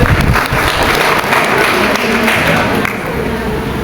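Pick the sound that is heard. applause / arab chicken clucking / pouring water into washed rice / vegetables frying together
applause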